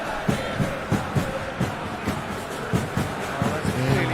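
A stadium crowd in a football video game roars and cheers in a broad, continuous swell, with rhythmic chanting pulses running through the noise.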